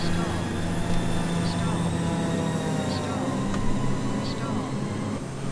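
Steady droning airplane engine in a flight game as the plane flips, a continuous loud hum with faint engine tones throughout, the pitch shifting slightly.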